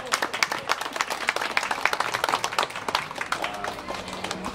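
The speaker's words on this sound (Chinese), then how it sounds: "我们要热烈的掌声来欢迎我们的主委" An audience at a temple new-year lantern-lighting event applauds to welcome the temple committee chairman, a dense burst of clapping that swells and then gradually thins out, with a few faint voices mixed in.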